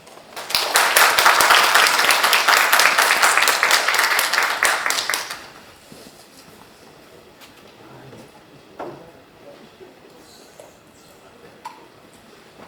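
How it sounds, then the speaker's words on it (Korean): An audience at a pharmaceutical and biohealth forum bursts into loud, dense applause for about five seconds, then it stops abruptly and only faint room noise and scattered small knocks follow. "큰 박수로 맞아주십시오."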